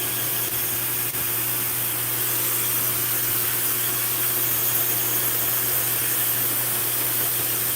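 A hair dryer with a concentrated nozzle blows a loud, steady, unbroken rush of air close by while drying hair, with no pauses.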